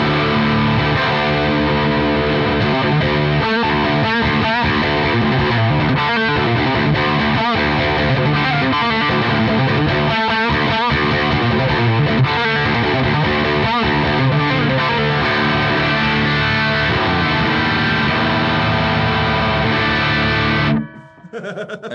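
Electric guitar through a JPTR FX Filth distortion pedal plays loud, thick, saturated chords and riffs, sustained for about twenty seconds before cutting off abruptly.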